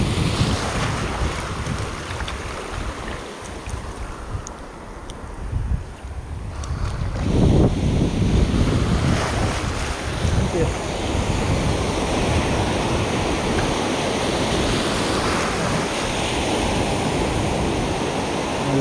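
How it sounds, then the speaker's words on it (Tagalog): Large ocean waves wash and churn around a small fishing boat at sea, with heavy wind buffeting the microphone and a broad, continuous roar that swells louder partway through. "malaki alon"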